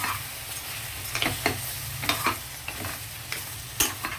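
Mutton pieces being stirred into a chilli-spiced masala, a soft steady sizzle with several sharp spoon scrapes spaced through it.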